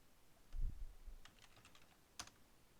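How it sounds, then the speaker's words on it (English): A few soft keystrokes on a computer keyboard at a point-of-sale register, one heavier press followed by scattered light taps and a final sharp key hit, faint and close with no talk. "we will press the F10 button to search for the inventory item"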